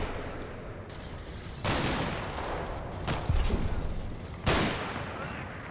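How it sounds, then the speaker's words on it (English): A rifle fires in the wartime video game Combat Mission: Battle for Normandy, three sharp loud shots spaced a second or so apart, with a steady noisy battlefield background. "You are indeed firing your rifle"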